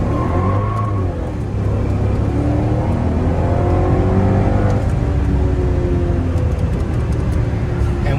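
A four-door supercar accelerates hard with its rear tires spinning, a loud, continuous engine roar rising in pitch, heard close from inside the car without a break.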